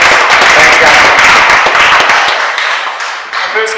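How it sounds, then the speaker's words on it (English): An audience at a St Patrick's Day boxing press conference in Manchester applauds Paulie Malignaggi with a loud, dense burst of clapping. It thins gradually toward the end. "a round of applause for Paulie here today"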